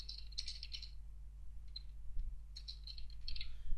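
Keyboard typing in Microsoft Word, two short bursts of light rattling key clicks separated by a pause, heard over a steady low hum with no speech.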